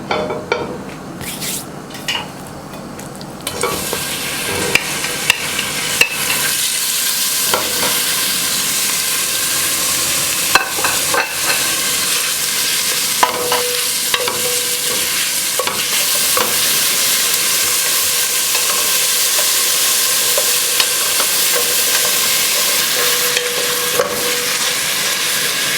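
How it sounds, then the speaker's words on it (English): Bacon and sausage frying in a pot for zuppa toscana, a loud hissing sizzle that swells after a quieter start, with frequent stirring scrapes and clinks throughout. "first what we will do is we will fry our bacon and our sausage"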